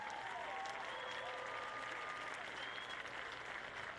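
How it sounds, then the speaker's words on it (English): Crowd applause at a high school football game for the 2018 homecoming contestants, Martinsville vs. Franklin, a steady, distant wash of clapping with faint whistles and cheers mixed in throughout. "Let's give all of our contestants a big round of applause,"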